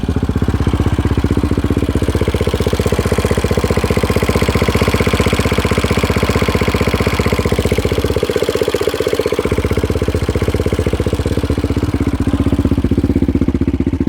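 A 2016 Yamaha Raptor 700 SE ATV engine idling close and loud with a steady rapid thumping beat and a metallic clinky rattle running through it, continuous throughout with no talking.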